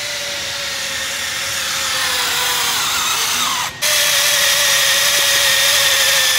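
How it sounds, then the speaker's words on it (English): A power drill bores 3/4-inch holes in a car seat bracket for Honda FL5 seats. It whines loud and steady nearby, breaks off briefly, then resumes at full speed. "So what we're doing is we're drilling the holes so that we can mount this bracket"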